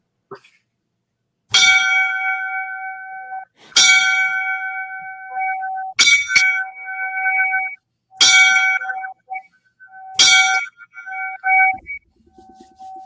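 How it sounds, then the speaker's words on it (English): A ceremonial 5-5-5 fire service bell signal honoring firefighters lost in the line of duty: loud, ringing bell strikes in spaced groups, each tone sustaining and decaying before the next, with no talk. "I'm going to take it out on the 555, 5 bells for all the members, lost in the line of duty."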